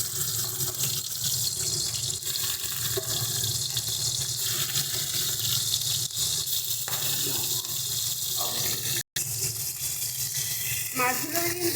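Prawns coated in salt and turmeric go into hot oil, producing a steady, hissing fry that sounds close, with a few brief knocks and one short dropout.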